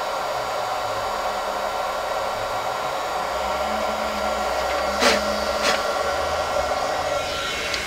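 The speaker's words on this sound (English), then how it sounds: "Okay, let's heat set this bad boy. I'm going to heat up my tool first" Heat tool blowing hot air to set alcohol marker ink on vellum, a steady loud whirring hum running throughout, with a couple of faint clicks near the end.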